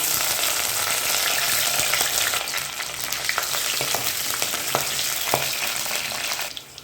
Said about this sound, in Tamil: எண்ணெய் சூடானதும் ஒரு ஸ்பூன் கடுகுழுந்து ஒரு ஸ்பூன் சோம்பு சேர்த்துக்கிறேன்